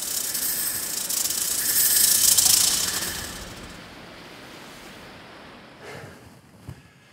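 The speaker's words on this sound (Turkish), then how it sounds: "Heyecanla yaklaştığımda bunların yılanların sesleri olduğunu fark ettim." Snakes hiss in a sustained airy rush that swells to a peak, fades, and then returns in brief fainter bursts with a small click near the end.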